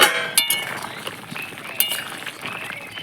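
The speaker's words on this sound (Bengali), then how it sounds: "এখন ঢাকনাটা তুলছি।" A metal lid lifted off a pot of simmering fish-head and potato curry, giving a few sharp clinks and rattles, the loudest near the start and one more a little later, with soft kitchen clatter between.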